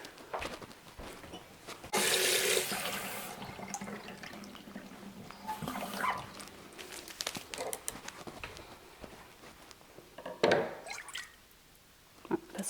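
Lukewarm water runs from a tap for brioche bun dough in a kitchen: a brief rushing splash, then scattered drips, splashes and wet handling noises at moderate, fairly quiet levels.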